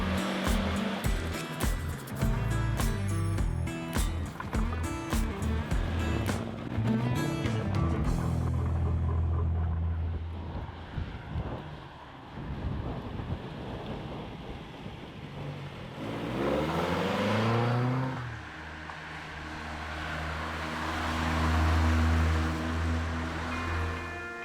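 A Porsche 911 rally car on the RAC Rally of the Tests roars away hard, its engine revving and fading as it departs castle grounds, with a steady rushing noise following and a second surge of engine near the end, no talk.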